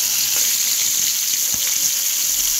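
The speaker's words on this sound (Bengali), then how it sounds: "এইভাবে আমি সব মাছগুলোকেই ভেজে নেব।" Hilsa fish fries in hot oil in a pan, alongside onions, for a mustard hilsa dish, giving a loud, continuous close-up sizzle with faint stirring clicks and no talking.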